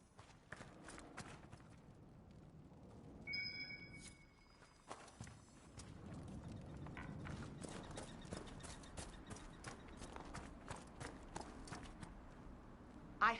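Horse hooves clip-clop in the fantasy video game Dragon Age, a purebred chestnut Ferelden Forder horse walking nearby, steady repeated hoof strikes over a low ambient bed, no talk.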